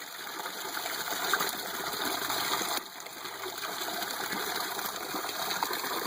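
Water gushes steadily out of an aquaponic grow bed's siphon, a continuous close, rushing flow with a brief dip partway through and no voices.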